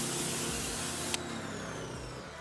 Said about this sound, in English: Just give them a nice little spray down.